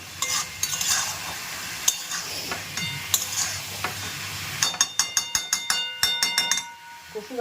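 Soybean curry sizzles in a pan while being stirred and sautéed, a low frying hiss broken by a quick run of sharp spoon-on-pan scrapes and clinks toward the end.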